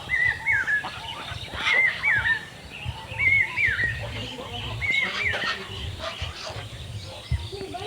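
Village ducks and geese give four regular bursts of honking calls, moderately close, over steady background noise.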